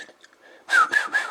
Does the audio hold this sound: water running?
no